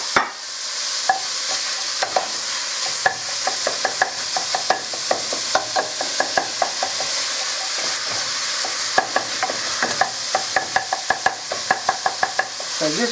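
A spoon scrapes and taps against a pan while Spaghetti Bolognese mince sizzles, the clumps broken up with steady, frequent strokes over a constant frying hiss, close and fairly loud.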